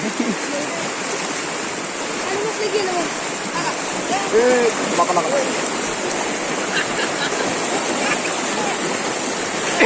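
Floodwater from heavy rain in Solapur rushes past near sugarcane fields in a constant broadband roar, with people talking and calling out over the flow.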